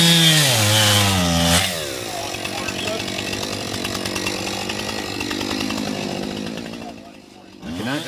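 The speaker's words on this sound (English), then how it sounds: "When performing the plunge cut, you'll need to cut down both sides of the window" A power saw plunge-cuts through a wall beside a basement window during a firefighter rescue, starting with a rising whine, then a loud continuous cutting roar that dips briefly near the end.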